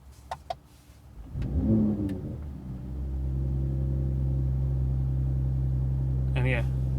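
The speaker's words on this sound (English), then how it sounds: "this is lowering, and you can see, you can hear the exhaust now." A 2019 Mercedes-AMG CLS 53 4MATIC+ switched into Sport Plus mode: after a few clicks, the engine swells with a rev, then settles into a steady deep exhaust drone at idle, with a brief voice near the end.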